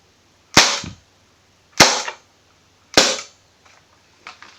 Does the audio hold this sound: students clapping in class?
no